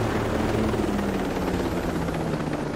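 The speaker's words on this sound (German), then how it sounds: "Hat sich das Einsteigen in den Heli ja nicht gelohnt." A helicopter flies in a tactical video game, a continuous loud rotor drone and engine roar filling the scene steadily throughout with no voices.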